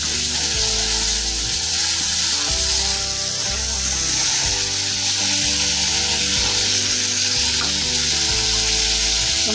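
Finely chopped tomato sizzles in hot oil with curry leaves and asafoetida, a loud continuous close hiss and crackle that carries through the whole stretch without any talking.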